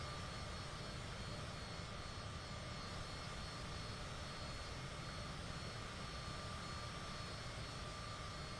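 Steady, unbroken roar of a Cessna Citation CJ4 business jet's engines in a flight simulator game, a dense broadband whoosh with a faint tonal whine, constant in level throughout with no voices.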